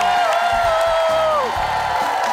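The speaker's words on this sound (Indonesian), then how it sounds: "Tepuk tangan dong buat Rina." Studio audience on an Indonesian TV game show breaks into cheering and whoops with applause, a sustained crowd roar with a rising tonal sweep over it.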